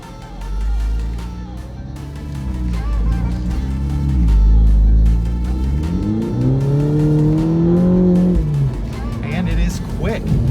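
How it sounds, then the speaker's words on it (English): A Mini Cooper's turbocharged 228-horsepower engine revs loudly and close, pitch rising and falling through gear changes with a quick exhaust blip on the downshift, while someone talks over it. "You can hear that exhaust blip on the downshift."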